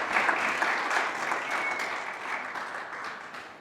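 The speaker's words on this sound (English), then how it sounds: "Can you have a round of applause for Muhannad, please?" An audience of students gives a round of applause for a graduate at a training-centre event, dense continuous clapping that starts strong and tapers slightly toward the end, heard alone without voices.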